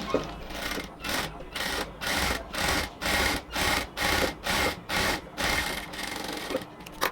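A sewing machine stitches a cotton kurti in short bursts, about ten rapid runs of needle chatter separated by brief pauses, close and clear with no speech.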